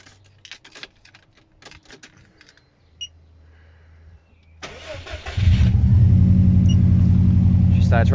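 A Subaru car engine cranks after some clicks and handling noises, then catches and settles into a loud, steady idle close to the microphone.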